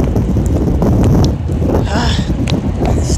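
Wind buffets an outdoor microphone in a steady, loud roar with gusty surges and no talking.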